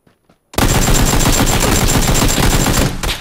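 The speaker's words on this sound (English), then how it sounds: "There was someone else shooting at me too, I think." A sustained burst of rapid automatic gunfire in the battle royale game PUBG erupts loud and close after a brief near-silent start, then continues for nearly three seconds before tapering off.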